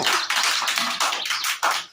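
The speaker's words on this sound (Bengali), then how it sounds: "হাততালি দাও সবাই, হাততালি দাও।" Children clap their hands together in a classroom activity, a quick run of close, crisp claps in uneven rhythm lasting about two seconds with no talking.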